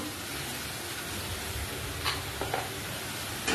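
Spices with a cauliflower, potato and paneer curry sizzle steadily in a pan, a soft continuous frying hiss broken by a few faint stirring scrapes.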